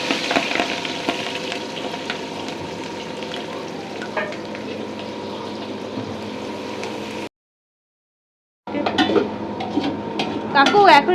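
Mutton pieces with onion, cumin and spices fry in a pan, giving a steady, loud sizzle with clinks of utensils and stirring; the sound cuts out briefly, then returns with sharper scraping and clatter.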